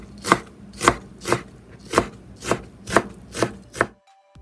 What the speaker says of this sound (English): Slice, then cut into small pieces.